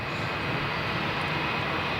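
An Air New Zealand airliner is pushed back at Melbourne Airport, heard as a steady, even engine rumble and hiss that stays constant through a short stretch.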